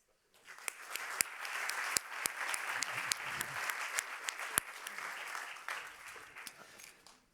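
An indoor conference audience applauds two vice presidents, dense sustained clapping that starts abruptly, holds steady with sharp individual claps standing out, then tapers slightly near the end.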